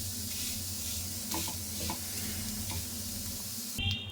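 A dosa cooking in a little oil on a hot pan, a steady close sizzle with soft scraping as it is flipped, and a brief clatter near the end.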